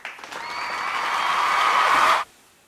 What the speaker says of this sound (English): Clap if you agree.